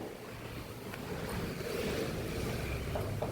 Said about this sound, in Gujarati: પવન તો જુઓ દીકા હા પવન આવ્યો જો આવ્યો